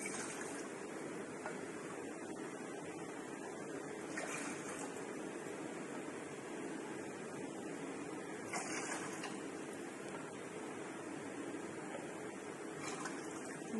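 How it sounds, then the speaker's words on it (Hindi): Measured water pours into a pot on a gas stove at home, a faint steady trickle and splash running continuously, with a few brief clinks. "उस पानी को इसमें नाप के डालेंगे।"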